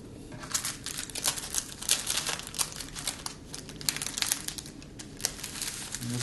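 A sheet of oven leaf paper is handled and crinkles close by in a continuous run of crisp, irregular rustles and crackles, with no voices.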